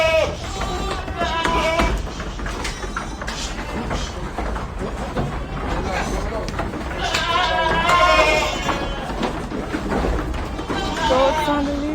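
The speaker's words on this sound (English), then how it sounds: "Goats on the loose." Goats bleating repeatedly in a farm pen, several loud wavering cries rising over a busy, close backdrop, with a person talking between them.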